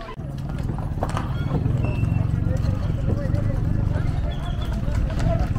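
Horses' hooves clip-clop steadily as riders set off on horseback for a quinceañera procession to the church, a continuous rhythmic clatter beneath loud outdoor chatter and voices, with an occasional horse whinny.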